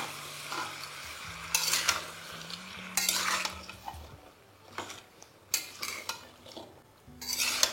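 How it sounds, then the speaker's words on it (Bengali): Chopped spring onions being stirred in a pan over high flame: bursts of spatula scraping and clinking against the pan with a soft sizzle between them, close up and without speech. "এবার পেঁয়াজ কলিটা দেওয়ার পরে আমি এটাকে ভালো করে মিশিয়ে নিচ্ছি।"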